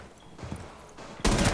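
Gunfire in Rainbow Six Siege, a loud dense burst of shots erupting near the end after quieter scattered sounds, with no talk over it.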